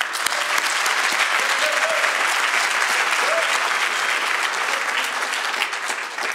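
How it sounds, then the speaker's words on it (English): A large crowd applauds steadily, a dense, continuous wash of clapping that holds at an even level throughout. "our members of the academic staff here present deserve a big round of applause"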